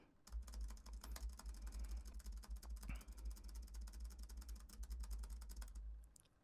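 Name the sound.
tapping on a computer keyboard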